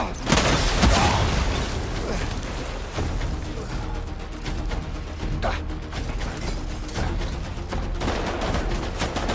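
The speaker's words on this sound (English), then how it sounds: "Let's hit that dude with a rocket launcher." Weapon fire and launch blasts from the video game Death Stranding while a rocket launcher is used, dense mechanical clatter and bursts running continuously at close range with no talk over them.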